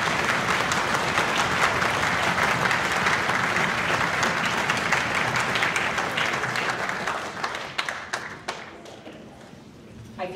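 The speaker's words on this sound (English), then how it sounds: "Students, would you give your parents an applause?" Students at a high school winter concert applaud their parents, a loud, dense wash of crowd clapping that holds steady for most of the stretch before thinning into scattered claps near the end.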